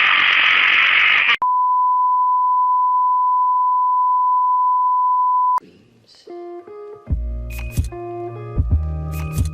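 A telephone line is picked up, giving a steady, clean single-pitch tone that holds for about four seconds. Then it cuts off into a jumble of shorter electronic beeps and tones.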